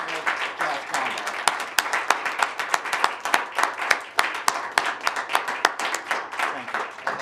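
Audience at a school board meeting applauding a jazz combo, a lively round of clapping with sharp individual claps standing out, and voices talking under it.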